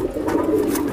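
Indian black dom pigeons cooing close by, a continuous low burbling coo from the birds with faint background noise and no talk.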